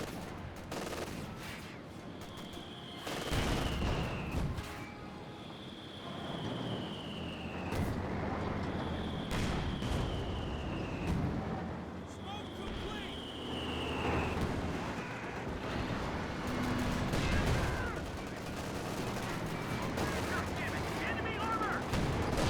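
A Pak 40 anti-tank gun and other weapons fire in the Company of Heroes 2 strategy game. Sharp shots and booms come amid battle noise, with whistling projectiles and someone commentating over it.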